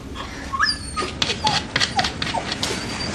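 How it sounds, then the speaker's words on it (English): A small mongrel dog whimpers and yips up close, a string of short high-pitched whines and squeaks coming in quick, uneven bursts. "It's the Johnson's dog"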